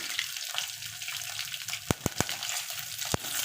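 Cumin, curry leaves and asafoetida spit and crackle in hot oil with a steady sizzle, broken by several sharp, close pops and ticks.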